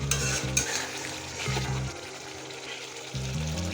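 Mutton curry spice paste sizzles softly in oil in a pot, with a faint steady frying hiss, broken by a few low scraping stirs and a light clink near the start.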